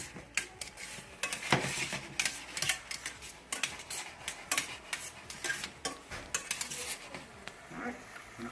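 A utensil scrapes and taps across the bottom of a pan while deglazing with chicken stock, a busy run of irregular clinks and scratches, close and fairly crisp.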